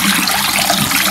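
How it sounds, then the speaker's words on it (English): Water used to wash mason bee cocoons is poured out in a steady, loud, rushing gush that lasts the whole moment, close by and without talk. "And dump this water out"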